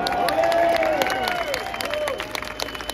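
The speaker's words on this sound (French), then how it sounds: "on peut applaudir de nouveau" An audience at a French political gathering claps and cheers in a dense, steady wash that thins out toward the end, with a voice briefly audible over it.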